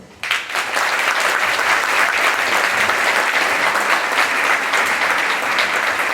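An audience at a summer music camp recital breaks into loud, sustained applause as a speaker is welcomed to the stage, a thick even wash of clapping that starts abruptly and holds steady.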